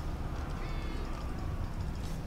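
A pet cat meows during a co-op game session, a few short plaintive calls over steady background noise and game sound.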